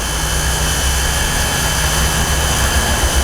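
Small JJRC H40WH FPV tank drone's motors keep running at full throttle while it tries to land, a steady, loud, close whine with constant buzzing tones and no speech throughout.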